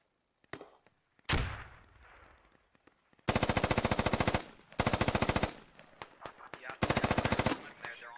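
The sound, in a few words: 5.56 rifle suppressive gunfire in video game Squad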